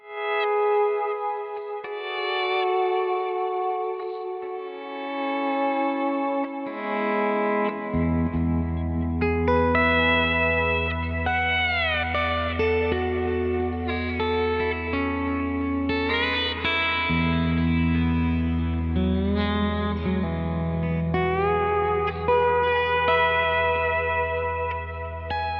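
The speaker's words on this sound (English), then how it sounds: "So this is with the delay." Slide guitar through a Kemper Profiler with a quarter-note delay at about 63% mix, high cut and light modulation, sustained gliding notes trailing into layered echoes over a steady low backing, loud and continuous throughout.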